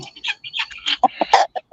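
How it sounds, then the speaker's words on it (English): A Buff Orpington breeding rooster gives a brief run of short, clipped clucks and chirpy calls, close and fairly loud, separated by tiny pauses. "This is my breeding rooster."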